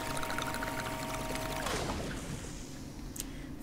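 Water pouring into a container in the video game Crime Scene Cleaner, a steady gushing fill over a low background hum that cuts off partway through, leaving a quieter tail.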